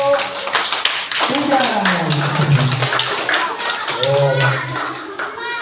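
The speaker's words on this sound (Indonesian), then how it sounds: "tepuk tangan untuk kelompok" A classroom of children applauds for a group of pupils, with steady clapping running throughout under children's voices and brief speech.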